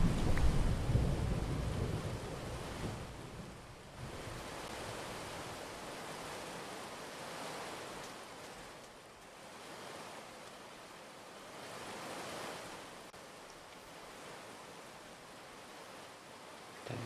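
In a Minecraft tornado survival game, rain and storm wind make a broad, steady roar that surges and fades in slow waves, with a heavier rumbling start and no voices.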